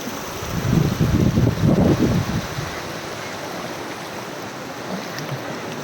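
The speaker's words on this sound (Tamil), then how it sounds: "தண்ணீர் ஆர்ப்பரித்து பாய்ந்து செல்லும் அழகிய காட்சி" Water gushes beneath the Mathur aqueduct bridge, a close rushing roar that swells loudest early on, then settles into a steadier, softer flowing hiss.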